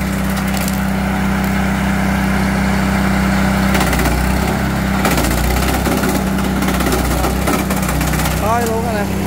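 A Honda-engine branch chipper shreds dry branches, its loud, steady engine drone broken by bursts of cracking and splintering wood, with voices speaking over the noise.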